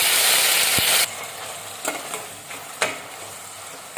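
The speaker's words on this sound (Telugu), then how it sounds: "ఈ టొమాటోల్లో నీరు కొంచెం ఎగిరే వరకు వీటిని కలుపుకుంటూ వేపుకోవాలి" Chopped tomatoes fry in oil left from frying dried red chilies, opening with a loud hiss as they hit the pan, then settling into softer sizzling broken by a few sharp spatula scrapes.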